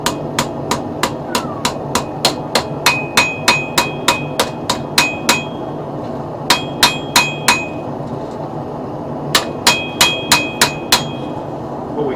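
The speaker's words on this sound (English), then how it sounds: "What we can do is hammer this back spine a little bit" Sharp metallic hammer strikes on the spine of a steel seax knife ring out in steady bursts, some ringing with a bright tone, over a constant background hum.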